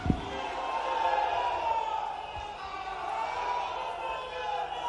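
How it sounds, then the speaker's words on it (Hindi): A large crowd at a farmers' gathering in Rewa applauds to welcome Home Minister Amit Shah, with steady, roaring clapping and cheering sustained throughout under a faint hum. "जोरदार तालियों के साथ अभिनंदन करें आदरणीय श्री अमित"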